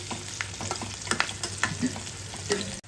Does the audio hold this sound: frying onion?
yes